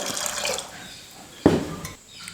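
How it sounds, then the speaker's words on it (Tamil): A short splash of water hits the inside of a pressure cooker holding soaked peanuts, one brief burst standing out against low kitchen background noise. "தேவையான அளவு தண்ணி சேர்த்துக்கிறேன்."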